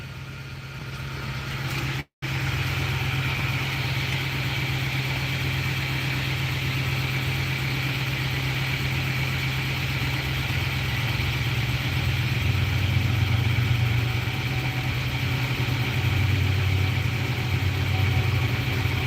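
A Nissan NV3500 van that had sat unstarted for two years idles steadily with a slight misfire and an engine warning light on, a continuous close engine drone with one brief dropout near the start.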